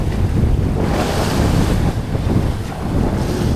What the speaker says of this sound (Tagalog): Lalaban na naman tayo sa maalong karagatan nitong dagat Pasipiko mga amigo.